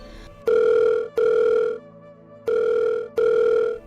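A telephone rings in four loud, steady tones with short pauses between them, heard on its own with no talking.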